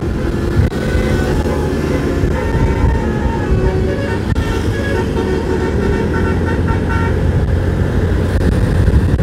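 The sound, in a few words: telolet bus horn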